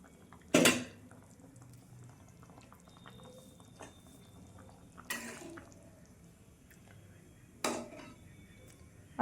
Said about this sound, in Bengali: আমি ঢাকাটা খুলে দেখব।